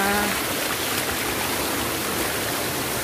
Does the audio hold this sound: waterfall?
yes